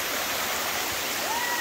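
Likeke Falls in Hawaii pours in a constant, loud hiss of rushing water heard from nearby, and a faint whistle-like tone rises briefly near the end.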